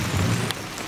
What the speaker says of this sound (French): vous êtes sous la pluie